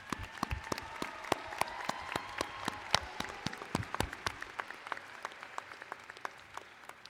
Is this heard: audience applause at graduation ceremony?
yes